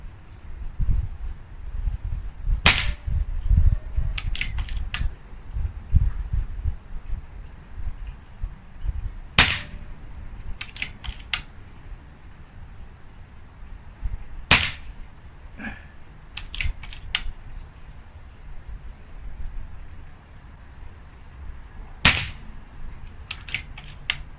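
An air rifle fires pellets at a target, several sharp isolated cracks spaced seconds apart, each followed by faint clicks of cocking and reloading over a low background rumble.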